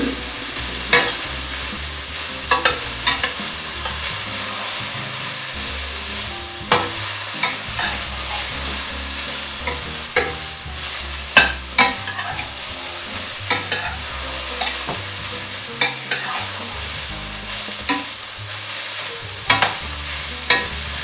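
Vegetables with snow peas sizzle steadily in a pan while a utensil stirs and scrapes them, giving frequent sharp clacks over continuous frying hiss, with no voices.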